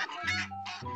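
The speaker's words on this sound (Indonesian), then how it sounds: "ternyata ini angsa" A goose gives two short, nasal honking calls, close and clear with a brief pause between them.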